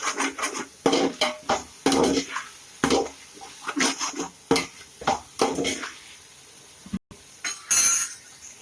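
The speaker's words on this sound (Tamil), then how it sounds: "ஒரு டூ மினிட்ஸுக்கு நல்லா வதக்கி விடுங்க" Masala for mutton biryani being sautéed in a pan, a spatula scraping and rasping against the metal in repeated close strokes, with brief clinks and a short pause near the end.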